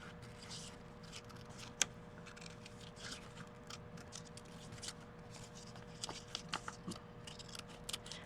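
Scissors snipping paper cut from a colour book for a mixed-media collage poster: faint, close, irregular snips and light paper rustle, with quiet talking in the background.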